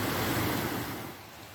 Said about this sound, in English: The waterfall is right up there.